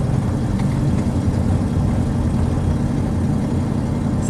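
A 1970 Ford Mustang fastback idles steadily with a slight exhaust header leak, producing a loud, continuous low rumble close by with faint ticking texture and no talk.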